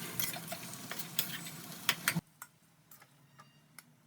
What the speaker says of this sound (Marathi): तो चिरलेला बटाटासुद्धा या तेलातच टाकायचा आहे आणि तोही छान व्यवस्थित मिक्स करून घ्यायचा आहे मसाल्यामध्ये